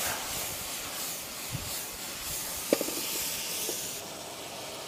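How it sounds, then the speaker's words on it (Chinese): Food stir-fried hard in oil in a pan over a wood fire at a roadside culvert camp, a steady low hiss with one brief sharp crackle partway through and a few soft clicks, fairly faint and alone. "给它爆炒一下哦"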